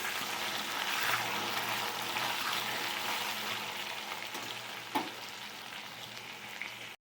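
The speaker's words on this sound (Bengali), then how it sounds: "কাটি কচু কটা দিয়ে দিচ্ছি সাথে অল্প একটু নুন দিয়ে দেবো আবার এটাকে ভেজে নেবো একটু" Taro pieces fry with a pinch of salt alongside potatoes in a pan, giving a soft, even sizzle with a low steady hum and one brief scrape near the end, no talking.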